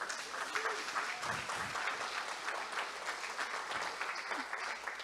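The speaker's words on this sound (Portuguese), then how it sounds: "Quem vai aplaudir a Deus aqui?" A church congregation applauds during a sermon, sustained quiet clapping heard from some distance, with faint voices murmuring underneath.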